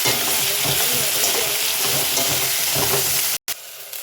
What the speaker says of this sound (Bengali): তারপর শুকনো মাছ, লঙ্কা কুচি, এখন পেঁয়াজগুলো দিয়ে দিচ্ছি।